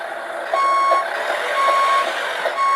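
A Beier SFR-1 sound controller in a Tamiya model semi truck gives a steady series of electronic reversing beeps at an even pace over a faint mechanical hum, with no talking.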